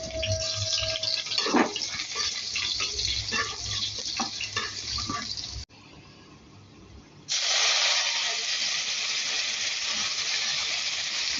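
Kolmi greens, or water spinach, go into a hot pan and sizzle, a loud steady hiss of frying close by, briefly quieting before a fresh burst of steam and sizzling takes over.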